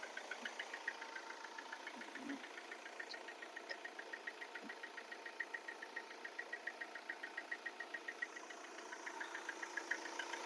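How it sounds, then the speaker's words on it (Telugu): The diesel engine of a 2013 Hyundai i20 with 135,000 km idles at close range, its steady rhythmic ticking clatter pulsing evenly throughout with no voices. "ఇంజన్ అయితే చాలా సైలెంట్గా ఆడుతుంది."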